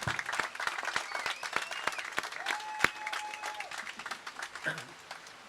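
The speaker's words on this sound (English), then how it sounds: "let's give him a round of applause" Audience applause at a festival closing ceremony honoring a World War II Navy veteran, moderate and steady clapping from a crowd with sharp individual claps and a faint voice speaking over it.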